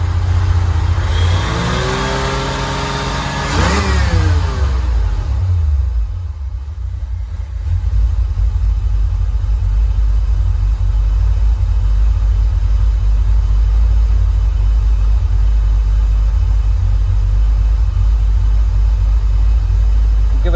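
A Ford Fox body Mustang engine fitted with a mass air flow conversion kit revs up and falls back in a brief sweep, then settles into a loud, steady high idle hold close by.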